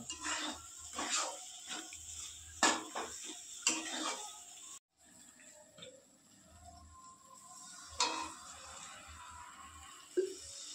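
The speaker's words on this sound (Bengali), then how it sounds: "পাস্তাটা ঢেলে দাও" Pasta tipped into a cooking pan with clattering pots and cutlery clinks, a few sharp knocks and scrapes standing out over quiet kitchen background.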